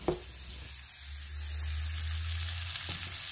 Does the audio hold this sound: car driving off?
no